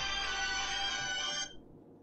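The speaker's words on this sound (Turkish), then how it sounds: "Telefon sesi ani yüksek gelince şey yaptım, bir çekindim tabii." A phone ringtone suddenly blares loud and bright during the strategy game They Are Billions, holding steady as a dense electronic tone for about a second and a half before cutting off abruptly.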